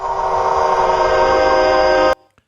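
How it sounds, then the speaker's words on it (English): AI-generated train passing by: a loud, sustained rumble with horn-like tonal whistling that holds steady, then cuts off abruptly into near silence. "Create a sound where a train passes by and becomes a lush string orchestra."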